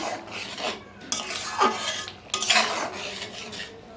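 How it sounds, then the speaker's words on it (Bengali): A utensil stirs boiled potatoes and pointed gourd in a metal pan, with repeated scraping and clinking strokes in an uneven rhythm, close and fairly loud, no talking. "এখন আমি এইভাবে একটু নাড়াচাড়া করে নিচ্ছি"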